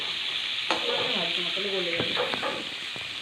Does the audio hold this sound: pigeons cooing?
no